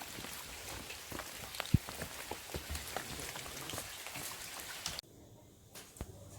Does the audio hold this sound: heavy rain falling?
yes